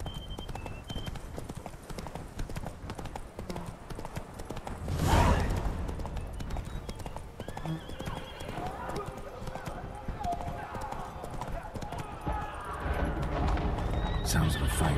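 Roach, Geralt's horse in The Witcher 3: Wild Hunt, gallops with steady, close clip-clop hoofbeats throughout, joined by a neigh and a brief louder burst midway, with a voice speaking over the ride.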